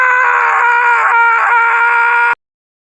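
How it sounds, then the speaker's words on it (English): A single sustained, piercing scream held at full loudness for about two seconds, harsh and steady, then cut off abruptly into silence. "Scream into the endless void like that one scene from Twin Peaks."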